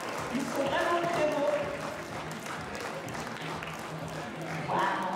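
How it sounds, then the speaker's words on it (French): Audience applause at a free cosplay parade during the Manga Creil 2024 convention, moderate steady clapping from a crowd with a voice speaking and murmurs over it. "On applaudit très très très fort"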